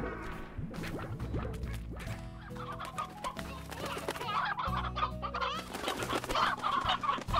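Chickens clucking in the farming game Slime Rancher, busy overlapping clucks and squawks mixed with game music and effects, fairly loud and continuous throughout.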